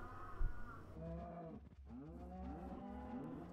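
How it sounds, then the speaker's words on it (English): Cows in Minecraft moo repeatedly, several overlapping low drawn-out calls from the blocky cattle crowding a farm gate, fairly close with a thump early on. "These adult cows keep pushing each other and they won't let them in."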